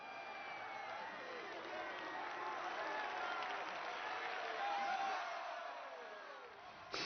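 A film crowd cheering for Tristan, a wide roar of cheers, applause and shouts that swells, holds for several seconds and then eases off, with voices mixed into the din.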